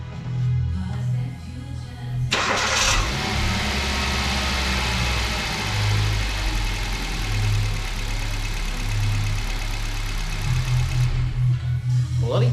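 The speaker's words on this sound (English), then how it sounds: "it is not going to stop me getting on the key and giving it a big start" A Hyundai i10 with a stretched timing chain cranks and starts, then runs with a steady, close engine drone; its tone shifts slightly before dropping back near the end.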